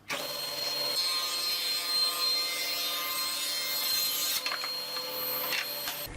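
Table saw ripping a thin strip of wood veneer for edgebanding, a loud steady whining roar with a brief change near the end, close and alone.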